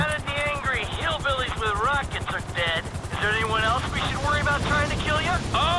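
A helicopter in the video game GTA 5 flies low and comes in to land. Its steady rotor drone runs under almost continuous loud talk for the whole stretch.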